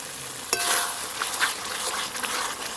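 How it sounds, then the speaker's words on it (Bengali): Chicken chaap gravy sautés in oil with a bright, crackling sizzle, close up, broken by a sharp clink of a spoon against the pan and soft scraping as it is stirred, no voices. "গ্রেভিটা ভালো করে কষতে হবে।"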